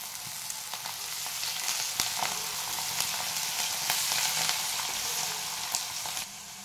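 Masala with turmeric and coriander sizzles steadily in a hot pan while being sautéed for stuffed brinjal, a continuous close frying hiss with small pops and occasional stirring scrapes.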